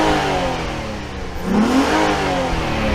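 A Nissan 350Z engine, heard from the front by the intake, idles and then rises in a quick rev before settling, close and loud.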